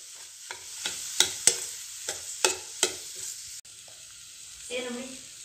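Boiled, mashed potato is sautéed with an onion mixture for a vegetable kachori filling: a series of close spoon scrapes and knocks over a faint, soft sizzle, ending with a brief hiss.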